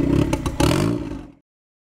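A 1.6L turbo Miata fitted with Deatschwerks 550cc injectors and a 165LPH fuel pump runs rough in gear: a loud, close, uneven clattering engine note with irregular pulses that cuts out after just over a second.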